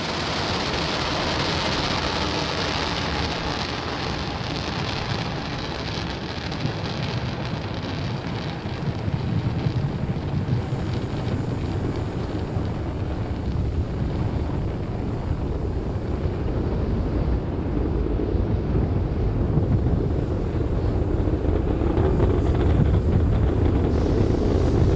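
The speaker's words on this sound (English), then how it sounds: "Falcon 9 has successfully lifted off from the historic launch pad 39A at Kennedy Space Center" A SpaceX Falcon 9 rocket lifting off from launch pad 39A at Kennedy Space Center, heard from afar as a continuous broadband roar buffeted by wind on the microphone, rumbling low end swelling slightly over time, with no talk.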